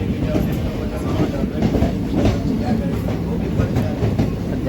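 A passenger train travels from Jalna toward Mumbai on a rainy, cool day, with a steady rolling rumble and rhythmic wheel clatter heard from inside the carriage, with faint background voices.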